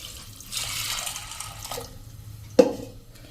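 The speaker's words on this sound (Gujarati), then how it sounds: "એમાં આપણે પાણી નાખશું ચણા ડૂબે એટલું" Water runs and splashes into a metal pressure cooker holding chickpeas for a couple of seconds, then a sharper splash or clink near the end, with no talking.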